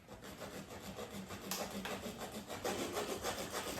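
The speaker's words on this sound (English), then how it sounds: "we'll see if the hacksaw will work because this is an aluminum" A hacksaw cuts through an aluminum bash guard on a pedal mountain bike being converted to an ebike, giving a rhythmic back-and-forth rasping, close and steady, growing a little brighter and louder midway.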